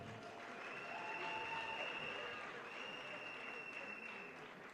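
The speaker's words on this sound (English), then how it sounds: "I want all of you to have a round of applause for the Senate President." An audience at a South-South citizens' gathering with Senate President Akpabio gives a sustained round of applause, even and steady clapping that is faint and somewhat distant.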